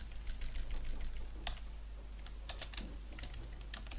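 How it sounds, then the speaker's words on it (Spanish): Keys clatter on a computer keyboard in quick, uneven bursts of clicks, faint and close over a low hum, with no talking. "está fallando el teclado"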